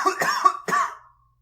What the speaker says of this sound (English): I'm not editing out that cough.